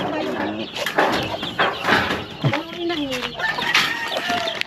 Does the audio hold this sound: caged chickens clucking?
yes